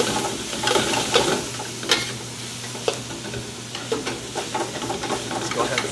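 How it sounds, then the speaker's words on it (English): Yakisoba noodles stir-frying in a hot stainless steel pan, with a steady sizzle and repeated scraping and tossing of the noodles up close, loud and continuous. "including the stainless steel when you're doing stir fries like this"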